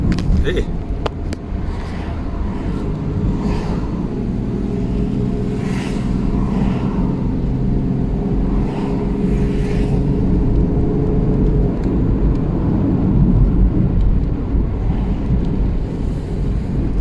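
Engine of a Naza Ria van, never overhauled, labouring steadily as it climbs the road up to Genting Highlands, a loud continuous low drone with wind rumble and no letup.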